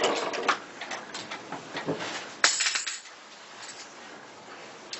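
A pair of metal scissors clatters sharply onto a hard surface once, amid light rustling and handling noises close by.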